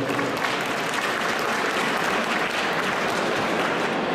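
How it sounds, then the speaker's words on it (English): Audience members at a cannabis convention's activism and politics panel applaud a speaker, a dense, steady round of clapping that fills the room evenly throughout, loud and close with no talk over it. "Let's hear a round of applause for Melissa."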